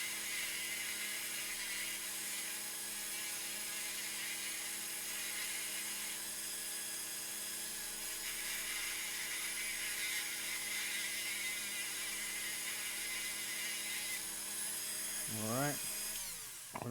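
A Dremel rotary tool smooths plastic on a damaged toy figure. Its steady, high-pitched motor whine runs close and unbroken throughout and wavers slightly in pitch near the end.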